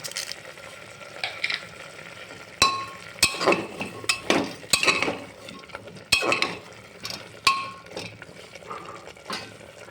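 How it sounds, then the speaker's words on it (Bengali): Metal pressure cooker lid clinking and clanking as it is fitted and locked shut over chickpeas and peas cooking in water with green chilli and sugar, several sharp close knocks spread over a soft kitchen background, with no talking. "এবার কুকারটা আমি আটকিয়ে দেবো।"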